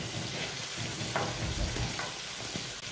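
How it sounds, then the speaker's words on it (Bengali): Spices and onions frying and being stirred in a pan, with a steady close sizzle running throughout and faint scraping of stirring strokes. "এটা আমরা আরেকটু নেড়ে ছেড়ে হালকা করে একটু কষিয়ে নেব পেঁয়াজের সাথে"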